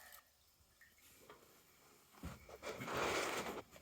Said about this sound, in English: So I'm going to take this water and dump it a lot of it.